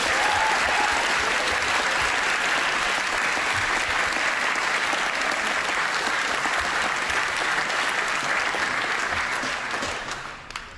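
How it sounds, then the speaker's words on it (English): A large crowd at a UK Youth Parliament sitting in the House of Commons chamber gives sustained applause for the staff: loud, dense clapping that holds steady for about ten seconds before tapering off at the end. "a huge heartfelt round of applause to the House of Commons staff"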